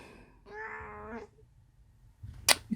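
A pet cat lets out one drawn-out, wavering meow indoors at close range, followed by a brief pause and then a sharp click and a soft thump.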